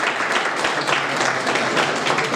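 A hall audience at a regional sports awards ceremony in Česká Lípa claps for an honored athlete, a short, lively patter of many hands with individual claps standing out, steady and moderately loud.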